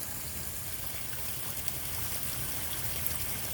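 Water pouring steadily from an LED-lit waterfall feature into a backyard swimming pool, a continuous close splashing wash with no pauses.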